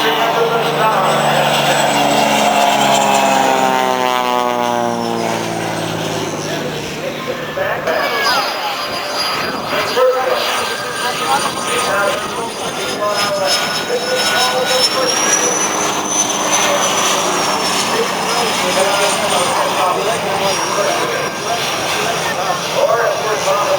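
Aircraft engines roar overhead at the Oshkosh airshow during a wing-walking act with two planes, a loud sustained drone with shifting pitch sweeps as the aircraft pass, with a commentator talking throughout.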